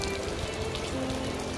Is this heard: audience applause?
no